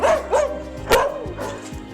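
A rescue dog 'sings' close by, giving several short, wavering howling yelps in an uneven rhythm, with small whimpers between, and no one talking over it.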